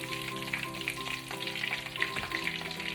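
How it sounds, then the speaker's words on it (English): Hot oil sizzles and crackles steadily in a pan frying eggplant, with frequent small pops over a continuous frying hiss, close up and fairly quiet. "as soon as the oil goes popping"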